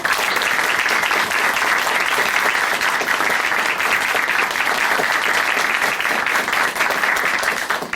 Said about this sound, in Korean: 다시 한번 이길자 자매님께 큰 박수 보내드리겠습니다